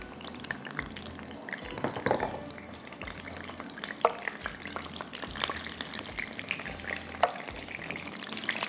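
Chicken chapli kababs fry in a pan with vegetables, a continuous soft sizzle with occasional sharp pops and spatters, fairly quiet and close.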